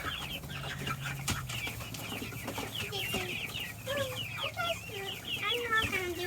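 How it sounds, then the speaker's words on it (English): A small rooster crows in short, uneven bursts amid clucking chickens, fairly close, over a steady low hum. "a little rooster does a little crow"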